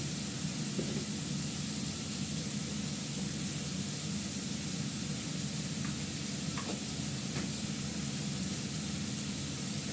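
Spices with ginger paste and turmeric being sautéed in a pan, a dense continuous sizzle with faint stirring scrapes, close and steady throughout, no voices.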